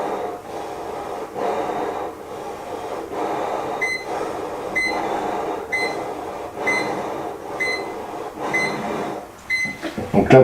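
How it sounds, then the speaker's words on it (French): Repeated electronic beeping of a formaldehyde detector alarm in regular bursts about once a second, over steady breathy blowing and rustling noise nearby. "Donc là, vous entendez une alarme qui se met en route."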